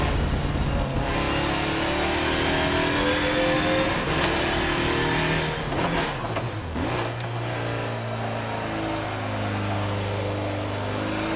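A Mazda race car engine roars through hot laps at Daytona in the Forza Motorsport 7 video game, a sustained loud drone that shifts pitch through gear changes and dips briefly midway.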